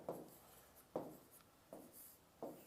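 Pen or pencil writing by hand on paper, four short scratchy strokes spaced about a second apart, close and quiet with no talk.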